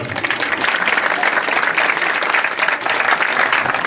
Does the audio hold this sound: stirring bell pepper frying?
no